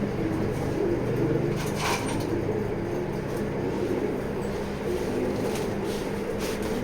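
Female pigeon in a pigeon loft, soft repeated cooing close by over a continuous low background hum, with occasional faint rustles.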